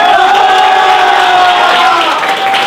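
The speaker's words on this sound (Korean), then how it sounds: "박수 한 번 더 주세요" Crowd cheering and applauding at a competitive match, loud and continuous, a dense wash of voices and claps filling the whole stretch with no break.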